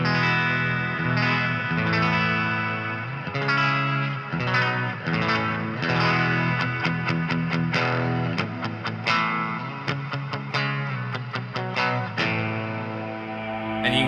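An electric guitar played through two stacked overdrive pedals into a Fender Champion 20 amp pushed toward breakup, strummed chords and picked notes with a gritty, slightly chorused tone, continuous and fairly loud with no talking.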